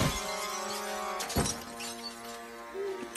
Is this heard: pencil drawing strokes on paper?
no